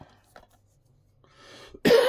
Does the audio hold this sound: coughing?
yes